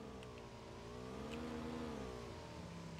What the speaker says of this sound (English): Motorcycle's going to shoot on by.